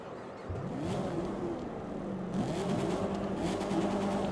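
A truck engine in The Crew 2 starts with a sudden loud burst, then revs repeatedly with rising and falling pitch, close and steady, with no voices.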